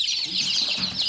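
Young desi chickens, penned on newspaper before a Ranikhet vaccination, cluck and peep in a busy, continuous chorus of high chirps, close by and without any talking.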